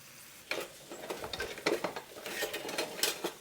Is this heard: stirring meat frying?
yes